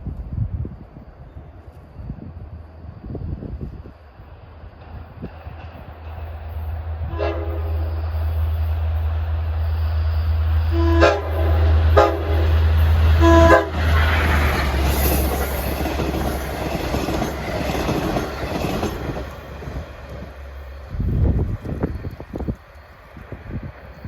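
A Long Island Rail Road commuter train rumbles steadily closer, sounding several loud blasts of its horn in a pattern, with wheels clattering and squealing as it passes by.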